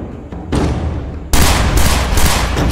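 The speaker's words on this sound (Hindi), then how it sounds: "तभी ताबड़तोड़ गोलियां चलने लगती हैं।" Rapid gunfire breaks out in a shooting at a car outside an office. Loud, sharp, overlapping bursts crackle close by and grow even louder partway through, with no talking.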